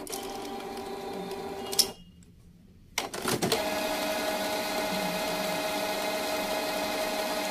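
A Canon G3010 inkjet printer runs while pumping yellow, magenta and cyan ink, a steady mechanical whirring hum that cuts out for about a second, then resumes with a clunk and keeps droning.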